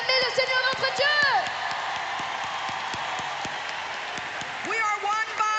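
A church congregation cheers and applauds God during a worship service, a loud, sustained crowd roar with clapping, whoops and shouted voices, swelling at the start and end with a preacher's voice rising over it.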